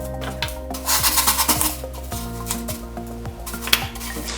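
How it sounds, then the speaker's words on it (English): Floral foam being trimmed at the edges to soften them for a moss mound over a bowl, giving close scraping and rasping strokes in uneven bursts over a steady low hum, with no talk. "Trimming the edges of the floral foam to give it a nice soft edge"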